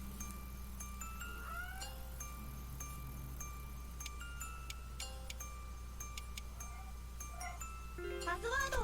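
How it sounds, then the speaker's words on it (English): Faint meowing from a pet cat somewhere in the background, a few short rising calls set against steady game music with chimes and electronic blips; no talking. "Kitty in the background."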